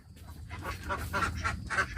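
A flock of ducks in a coop quacks and honks repeatedly in overlapping bursts, close and fairly loud over a low background rumble.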